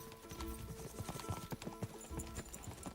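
Horse hooves clopping in a fast rhythmic gallop during a horse race in Kingdom Come: Deliverance 2, the beats quick and muffled beneath a dense bed of game sound and music.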